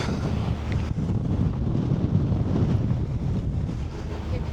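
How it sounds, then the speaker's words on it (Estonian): Strong wind buffets the microphone outdoors at a Saaremaa midsummer bonfire gathering. It is a loud, steady, low rumbling roar that barely lets up for the whole stretch. "Siin on tuul on päris korralik."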